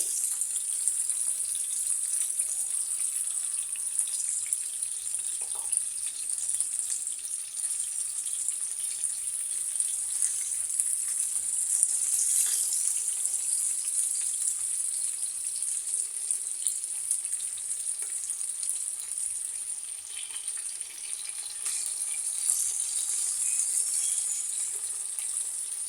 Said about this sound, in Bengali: মাছগুলো ভালো মতো ভেজে আমি আবার আসছি।